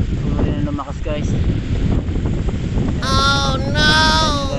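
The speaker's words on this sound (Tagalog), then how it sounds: "lumakas na naman ang hangin" Strong wind blows across the sea near a sandbar, a steady loud rushing roar buffeting the microphone throughout, with crows cawing faintly toward the end.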